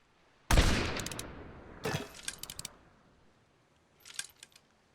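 Single-shot rifle fired in the pirate video game Blazing Sails: a sharp loud crack, then a second shot with clattering reload clicks, and a fainter burst of mechanical clicks near the end.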